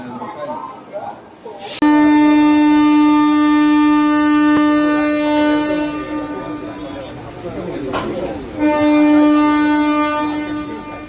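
The Vikrama Simhapuri Amaravathi Super Fast Express sounds a loud, sustained horn at Tenali station, sounding twice with a short break, over rumbling rail noise and a voice talking.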